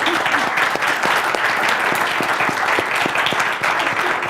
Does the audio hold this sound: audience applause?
yes